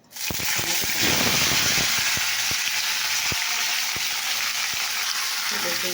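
Potatoes frying in hot oil in a pan sizzle loudly and steadily after a sudden start, with sharp clicks and scrapes of stirring at intervals; no talk over it.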